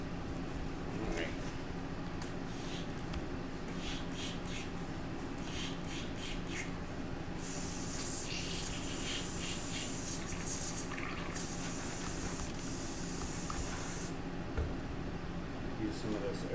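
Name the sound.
airbrush spraying airbrush cleaner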